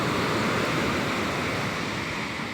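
Ocean waves wash and roar steadily at the shore, a loud continuous surf with a wind-like hiss and no pause or voices.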